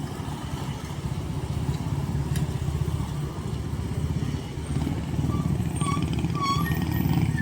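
A group of motorcycles passes a railway crossing near traffic lights, a steady mix of engine drone and rumble at moderate distance, with a few brief horn-like tones near the end.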